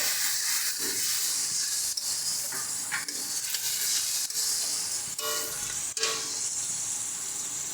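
Water poured into spice paste frying in oil for a cauliflower curry sets off a loud, continuous, bright sizzling hiss, close by, with small pops and surges throughout and no voices.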